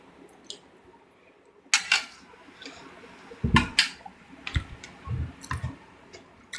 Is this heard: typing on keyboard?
yes